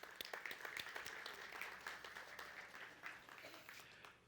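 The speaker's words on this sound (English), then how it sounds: "I just want to give a round of applause today to our customer care team" Audience at a company annual meeting applauding for the customer care team, a fairly quiet but continuous round of clapping with distinct individual claps standing out.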